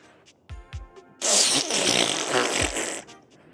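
A person imitates a fart with the mouth during a Date Everything! playthrough: a loud, sustained, noisy raspberry lasting about two seconds, preceded by a few short thumps and faint sounds.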